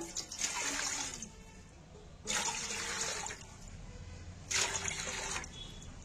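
Water pours into a pot for chicken biryani on an outdoor wood stove, in three separate bursts of splashing a few seconds apart over a low background hum.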